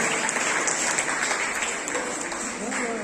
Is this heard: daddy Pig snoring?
no